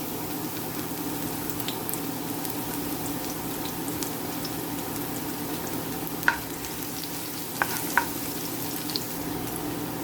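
Garlic sautéing in a little hot oil makes a steady, close sizzle that runs the whole time, with a few sharp ticks and clinks near the end.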